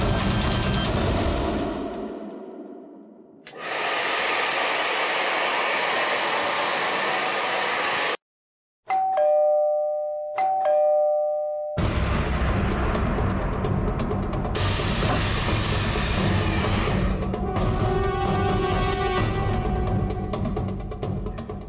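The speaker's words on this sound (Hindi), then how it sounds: "एसी और हेयर ड्रायर की आवाज के ऊपर भी बेल की आवाज साफ सुनाई दे रही है।" A doorbell rings through the steady roar of an air conditioner and a running hair dryer. A brief tonal chime stands out between dense, hissing blasts of blower noise that drop out and resume.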